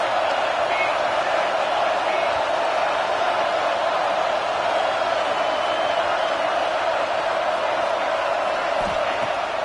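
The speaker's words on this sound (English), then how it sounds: "This crowd trying to make life miserable for this offense." Loud, dense roar of a football stadium crowd, sustained and steady throughout the play.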